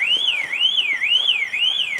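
A loud car alarm wails nearby in a rising and falling siren pattern, cycling evenly about twice a second, heard during a casual five-a-side football match.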